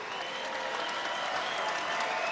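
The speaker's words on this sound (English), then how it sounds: "let's get a nice round of applause out here for both of these fighters" A boxing arena crowd applauds both fighters after ten rounds, a dense, continuous roar of clapping hands at steady volume throughout.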